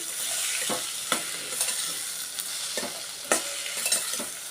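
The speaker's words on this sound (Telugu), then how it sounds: "కొంచెం సేపు తిప్పుకోవాలి" Cucumber dry fish curry being stirred in a frying pan, a constant bright sizzle with repeated scraping strokes of the spoon against the pan, close and fairly loud, without speech.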